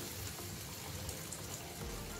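Water poured into a pan of just-boiled water for cooking pancit canton, a steady close splashing gush that runs unbroken for about two seconds.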